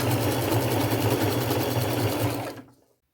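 Sewing machine stitching lace onto a chenille robe, a loud, fast, even mechanical chatter running steadily for a couple of seconds before stopping abruptly.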